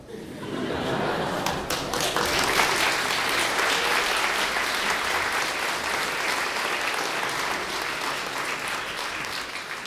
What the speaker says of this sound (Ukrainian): Ви аплодуєте